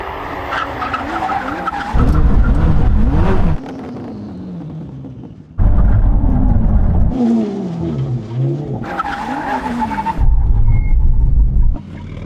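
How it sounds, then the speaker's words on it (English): Loud high-performance cars during a brake test at a drag race event (Koenigsegg Jesko, Lamborghini Revuelto, 1,000hp BMW M3), heard as roaring bursts of engine revving and tire skidding that come in several loud surges separated by quieter pauses. "God, this car's loud."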